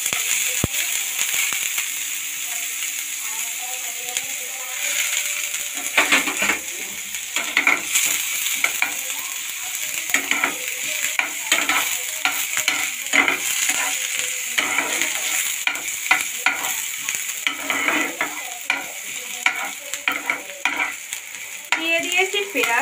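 Onion hitting hot white oil in a wok gives a loud, continuous close sizzle with crackling spatter and clinks of a spatula stirring throughout, no voices.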